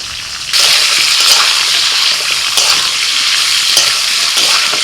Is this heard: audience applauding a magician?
no